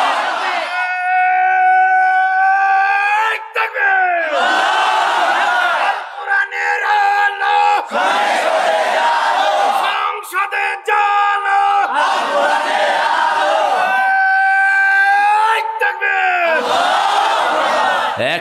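A large sermon-gathering crowd shouts the takbir in unison, loud, sustained roaring calls repeated several times across the stretch, separated by brief pauses.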